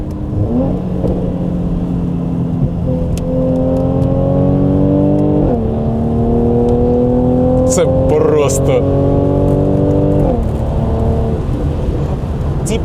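A Mercedes-Benz C205 engine revs loudly and close, its droning tone rising and dropping in several sweeps with a few sharp clicks over the top.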